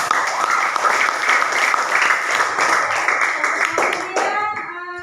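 A classroom of pupils claps for a classmate during a microteaching lesson, a loud and dense burst of applause that fades near the end as a voice begins speaking.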